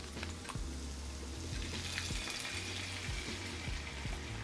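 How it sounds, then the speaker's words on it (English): White wine hitting a hot pan to deglaze for chicken piccata, a soft steady hiss and sizzle with light scraping, fairly quiet and without talk. "we're gonna deglaze with some white wine"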